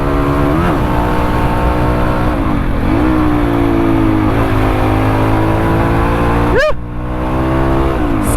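Race between a Xz250rrr and an NS200 motorcycle: a loud, steady engine drone runs throughout, with pitch swelling and dipping as the throttle is worked and a sharp rev sweep near the end.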